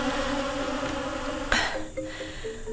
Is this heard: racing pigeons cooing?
no